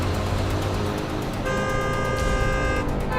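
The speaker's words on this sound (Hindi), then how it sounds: "क्या चाचा, कब से हॉर्न बजा रहा है?" Vehicle horns honk on a busy road, a sustained toot followed by layered blaring tones over constant traffic rumble, loud and close.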